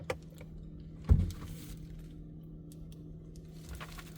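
Electric side mirror on a TOGG T10X adjusting inside the parked car, a single short motor whir about a second in, close and fairly soft over a low cabin hum.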